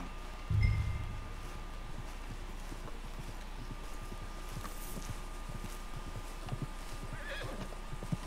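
A horse in Red Dead Redemption 2 gives a loud whinny near the start, and then its hooves clip-clop steadily through the rest, over a constant ambient background.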